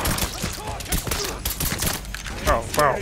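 Rapid bursts of gunfire crackle and pop amid a chaotic battle in Mafia III Definitive Edition, with voices shouting over the shots.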